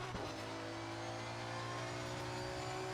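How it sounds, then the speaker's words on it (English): An Aston Martin Racing V12 engine drones steadily at Bathurst, a loud, sustained car engine note holding a constant pitch at high revs with no talk over it. "listen to this engine. Listen to that. Ooh, V12, baby."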